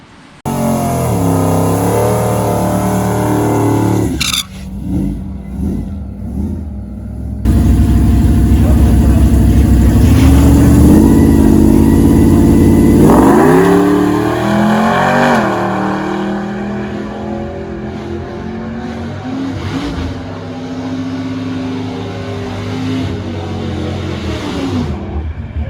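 A Ford Lightning pickup fitted with a 3.8 Whipple supercharger revs and drives off, its engine roaring loud and close with rising and falling pulls, a brief cut near five seconds, then a sustained surge that fades to a steady run.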